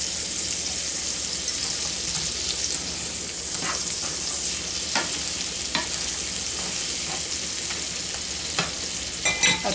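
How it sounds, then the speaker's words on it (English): Noodles and butter sizzle in a cooking pan with a continuous bright crackle, while a utensil scrapes and taps against the pan at irregular intervals. "just stir it up to get the butter all around it. Cooking right away."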